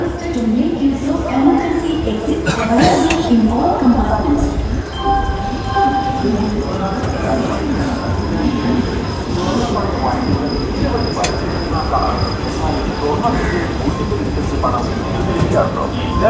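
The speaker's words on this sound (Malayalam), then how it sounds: "2 മിനിറ്റത്തെ ഹോൾട്ടിന് ശേഷം കാനങ്ങാട് റെയിൽവേ സ്റ്റേഷനിൽ ട്രെയിൻ ഡിപ്പാർട്ട് ചെയ്തിരിക്കുകയാണ്" West Coast Superfast Express pulling out of Kanhangad railway station after a two-minute halt: a steady rolling rumble of wheels and carriages with faint clatter and a thin, sustained high tone, continuous and fairly close throughout, with some background voices.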